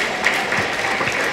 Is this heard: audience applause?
yes